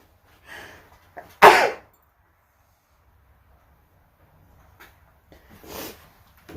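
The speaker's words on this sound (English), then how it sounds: "I'm gonna sneeze." A single loud, sharp sneeze bursts out near the mic indoors, preceded by a short intake of breath and followed by quieter breathy noises, with long near-silent gaps between.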